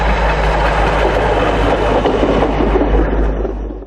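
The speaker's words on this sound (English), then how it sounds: "this standard gauge high rail vehicle, bound for some maintenance further up the track" A standard-gauge high-rail maintenance vehicle rumbles close by on the track, a loud low engine drone with rattling and clanking wheel noise, fading slightly at the end.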